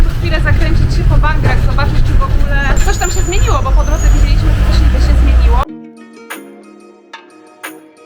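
Interior of a Thai city bus on line one, with loud engine rumble and road noise under close talking, then a sudden drop to a quieter cabin.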